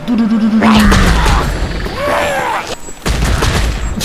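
Explosive booms and crashes from bombs dropped during a gliding bombing run in Genshin Impact, loud and dense, with rumbling bursts across the clip and a shouting voice underneath.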